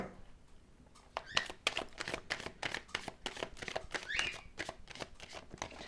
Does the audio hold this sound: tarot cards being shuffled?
yes